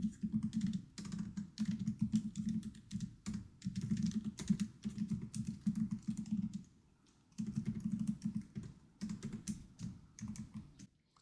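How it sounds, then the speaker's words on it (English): Rapid clicky keystrokes on a new MacBook keyboard in quick bursts, pausing briefly now and then, close to the microphone. "Really do like the typing experience."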